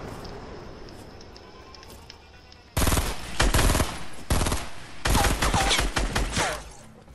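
Video-game gunfire bursts in after a quiet stretch: loud, rapid automatic volleys in several close bursts with short gaps between them.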